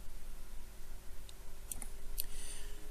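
Mouse clicks on an icon in video editing software: a few sparse, faint clicks in the second half, over a steady low hum with no talking.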